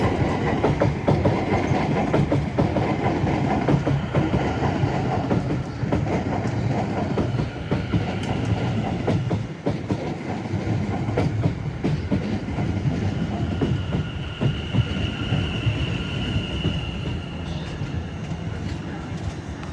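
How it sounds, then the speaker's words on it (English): A Southwestern Railway Class 701 Arterio electric unit rolls through Clapham Junction on a London Waterloo to Woking service, a steady loud rumble with clattering wheels and a brief high whine near the end, continuous throughout. "coming down is another Southwestern Railway arterial unit working a service from London Waterloo to Woking, worked by 701008"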